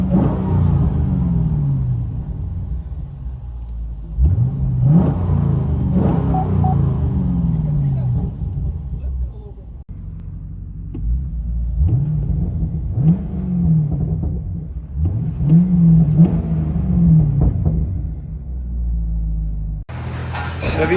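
Chevy Camaro SS with a 6.2L LS3 V8 and Borla ATAK exhaust heard from inside the cabin, a deep rumbling idle broken by repeated revs that rise and fall, loud and close.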